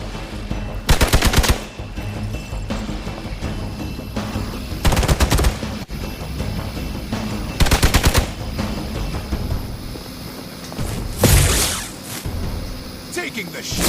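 Gunfire in the video game Marvel Midnight Suns comes in four loud, rapid bursts spaced a few seconds apart, each a dense rattle of shots over a steady bed of game ambience.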